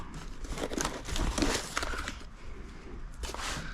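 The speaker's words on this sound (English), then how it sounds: "get a knife and cut along the edge right here, and then cut this part of the box as well" Cardboard box being sliced along its edge with a knife, crinkling and scraping in uneven bursts close by, with no talking.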